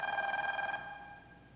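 A telephone bell rings once in a sustained, bright electronic trill that sounds close and clear, then fades away with no talking.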